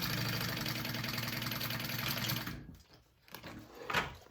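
A sewing machine runs steadily while basting a tassel in place, a fast even rattling hum close by for about two and a half seconds, then stops, leaving faint handling noises and a soft clunk.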